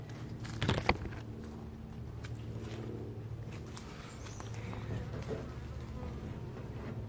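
Honey bees buzzing inside an observation aquarium hive built from a cut-out colony, a dense continuous hum close up, with a couple of faint knocks early on.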